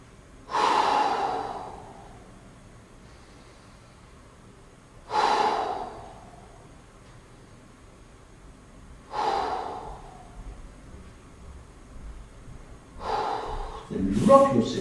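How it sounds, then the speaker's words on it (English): Slow, deep breaths are drawn into the sides and back of the ribs during a beginner Pilates session, four long airy inhales spaced about four seconds apart, close to the microphone, with a brief voiced sound at the very end. "just take a few deep breaths into the very side and the back of the ribs"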